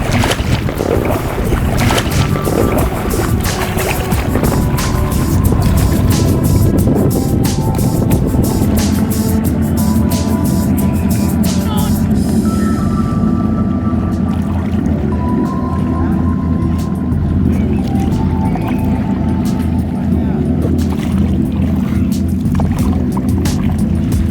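Kayak paddling on open water around an island, with steady rushing wash and wind buffeting the microphone throughout, the strokes loud and close and partly masked by wind noise.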